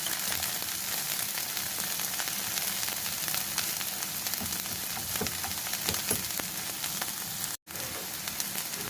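Asafoetida sizzles in hot oil for a dry okra palya, a steady close crackling hiss with fine popping throughout and a brief dropout near the end.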